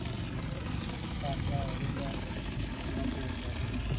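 A newly drilled 500-foot borewell pump runs at a new house, sending water gushing out in a steady, loud rushing flow with a mechanical hum underneath. People talk over it.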